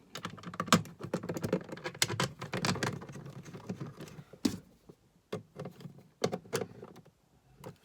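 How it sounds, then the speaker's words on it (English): Screws are driven into a 12V socket panel in a caravan, producing close, irregular clicks and ticks in short bursts with brief pauses between them. "Put the screws in."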